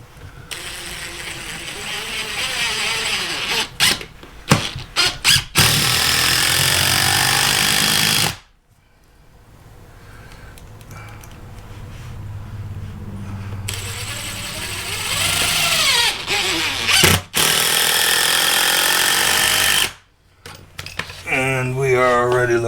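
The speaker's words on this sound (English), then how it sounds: "I am just going to go ahead now and toenail this in with a couple of screws right here." Power screwdriver driving screws at an angle to toenail a wood stud into a replacement bottom plate for a rotten one, loud whirring bursts in several runs with short pauses between, close by and alone.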